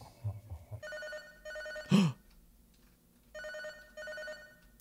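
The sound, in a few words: telephone ringing in a video game, Catastrophe Crow 64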